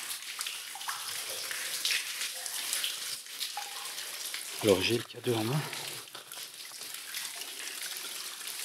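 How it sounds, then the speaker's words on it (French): Water seeps and drips steadily from the roof of a very long tunnel in Belgium, a continuous echoing trickle and patter under someone speaking French. "il pleut littéralement sur moi"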